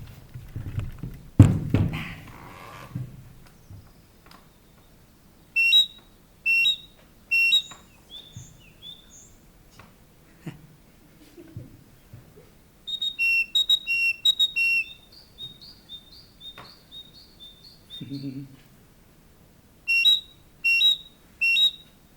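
A great tit call decoy is blown outdoors in short bursts of high, sharp two-note whistles, repeated in several groups separated by quiet pauses, with faint background handling noise.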